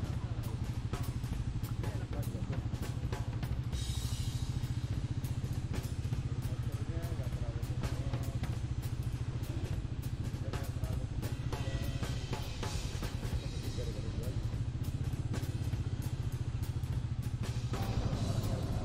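A Royal Enfield Meteor motorcycle being ridden, its steady engine drone and road rumble continuing throughout the ride at a fairly constant level.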